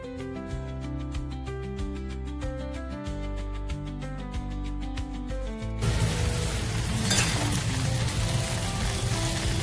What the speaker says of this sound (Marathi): 2 पळी गरम तेलात भेंडीला टाकून परतून घेऊ